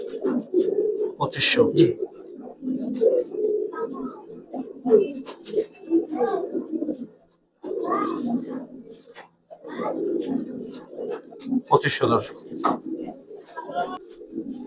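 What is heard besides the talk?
Giribaz pigeons cooing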